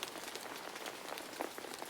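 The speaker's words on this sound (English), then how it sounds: "he liked the sound of the rain landing on" Rain patters softly on a surface, a faint, steady wash of tiny drops with occasional slightly louder taps, no voices.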